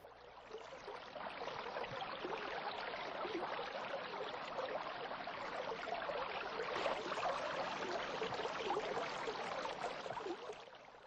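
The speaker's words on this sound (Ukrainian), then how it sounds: "я натрапила на струмок. Тільки погляньте, який він швидкий та дзвінкий." A fast, babbling brook near a forest meadow rushes and trickles steadily, a bright continuous water sound, close and fairly loud, with no voices over it.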